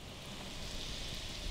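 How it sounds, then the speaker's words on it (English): Rain falls in a steady outdoor wash of hiss with a faint low rumble underneath, brief and continuous, with no talking. "it starts raining again"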